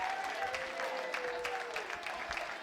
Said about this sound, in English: Round of applause for these two gentlemen.